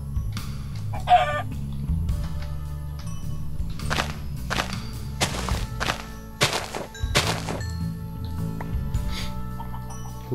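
Chickens in the video game Minecraft give a short burst of clucking near the start, set against steady background game music with sporadic sharp thunks and swishes of play, no talking.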